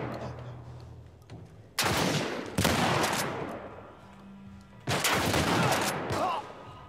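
Gunfire in The Last of Us comes in three loud, sustained volleys of rapid shots separated by quieter gaps, with a low hum underneath.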